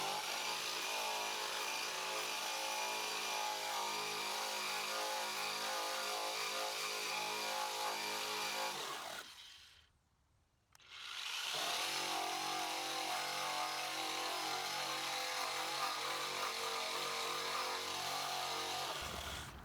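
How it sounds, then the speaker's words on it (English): An Eastwood Contour SCT surface conditioning tool fitted with an abrasive drum grinds the metal skin of a car's panoramic roof, a loud continuous rough whine that cuts out briefly midway and then resumes steadily. "But let's try the SCT with the abrasive drum on it."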